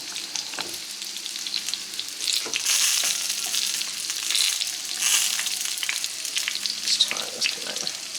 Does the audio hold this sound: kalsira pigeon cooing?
no